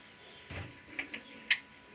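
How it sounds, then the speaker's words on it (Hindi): Faint bird calls chirp a few times against a quiet farm backdrop, with one soft thump early and a sharper chirp near the end. "इतनी आवाज़ें आती हैं सारे बर्ड्स की।"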